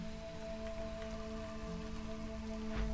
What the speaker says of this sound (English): I'm missing this whole drizzle.